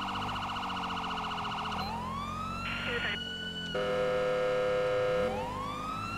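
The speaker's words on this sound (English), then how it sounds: "We are using a Carson SA siren" A Carson SA police siren in GTA 5 LSPDFR cycles loudly through several tones, a rapid yelp, a rising and falling wail and a short harsh burst, sounding close and continuous.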